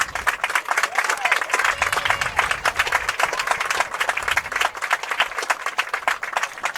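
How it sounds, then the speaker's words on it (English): A large crowd at a college men's soccer match applauds an injured player, Ramirez, as he is helped up, with dense sustained clapping throughout and a commentator's voice faintly underneath. "Ramirez gets a nice hand from this big crowd on hand here"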